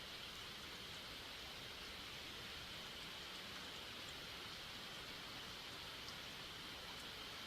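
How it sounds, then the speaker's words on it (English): Steady rain from the video game SeaBed pours as a dense, even hiss, constant and close throughout with no voices over it. "Suddenly I could hear the sound of rain."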